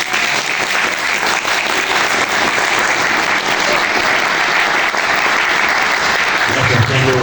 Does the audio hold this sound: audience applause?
yes